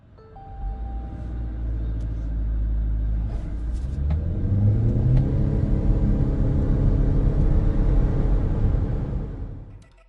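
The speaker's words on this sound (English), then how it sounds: "Let's launch the vehicle and see what it's all about." A 2023 Haval Jolion Hybrid with front-wheel drive launches hard and accelerates, its engine note rising steadily in pitch over a deep road rumble, loud and close throughout with no talking.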